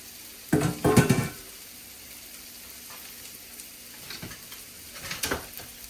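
Chopped onions, carrots and garlic hit a hot pot for a New Year's Day pot roast, giving two close bursts of sizzling and clatter that settle into a quieter hiss, with a smaller flare of frying near the end.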